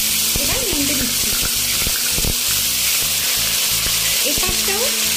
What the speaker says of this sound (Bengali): এপাশটাও লাল লাল করে ভেজে নিতে হবে।